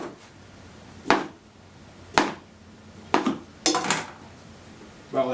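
A knife chops through sausage on a cutting board, giving about five distinct, close knocks at uneven intervals, with a faint scrape after the last few cuts and no talking.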